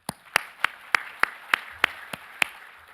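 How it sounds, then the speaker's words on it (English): About nine sharp claps land in an even rhythm over a few seconds with a faint room tone behind, sounding like a single person clapping rather than a full audience applauding. "I'd like all of us to give a round of applause to our overseas and local speakers"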